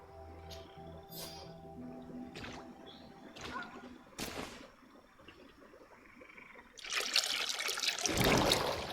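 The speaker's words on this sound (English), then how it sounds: "That must be where we need to pour the potion." Liquid trickles and splashes onto altar stones as a potion is poured in the fantasy game Greedfall, a soft dribbling that swells into a louder, splashy pour near the end over quiet game ambience.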